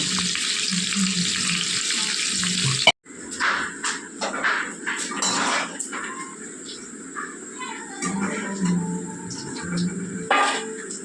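Pork is rinsed clean under a running kitchen tap, with water splashing and gurgling close by into the sink, shifting as the meat is turned, and a sizzle from frying chicken faintly underneath.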